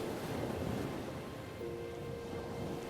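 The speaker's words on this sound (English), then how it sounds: "Ah, so nice and windy." Steady wind at the seaside with surf and ocean wash underneath, a constant broadband rush filling the whole stretch, with a faint tonal hum appearing partway through.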